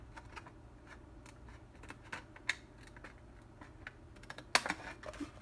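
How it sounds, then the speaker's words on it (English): Scissors snip paper tabs off a Halloween card box in quick, quiet crisp cuts and rustles, close up, with a couple of sharper snaps near the end. "So let's just cut those off."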